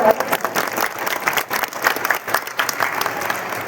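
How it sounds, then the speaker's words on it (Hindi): Audience claps steadily at an evening swearing-in ceremony of the Garhwal Sabha in Faridabad, a dense, continuous round of applause from a seated crowd lasting several seconds without pause. "जोरदार तालियों से स्वागत।"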